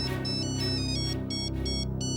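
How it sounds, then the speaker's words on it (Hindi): A telephone ringtone chirps in a steady repeating electronic pattern of bright, evenly spaced bursts, fairly close and loud, with no one speaking over it. "घर से फोन?"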